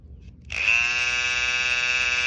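A small electric clipper motor switches on and hums steadily with a bright, high-pitched buzz, loud and close.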